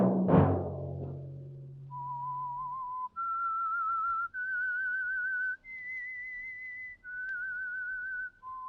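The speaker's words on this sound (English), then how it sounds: "Let that whistle be your signal for the Signal Oil program, The Whistler" A lone whistled melody from the theme of The Whistler radio program, a series of clear sustained notes stepping up and down in pitch, preceded by a brief resonant low tone.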